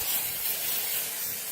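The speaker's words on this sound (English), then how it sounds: "I spray this right at my roots" Hair product is sprayed at the roots of sectioned hair, a steady close-up airy hiss that runs unbroken and evenly loud throughout.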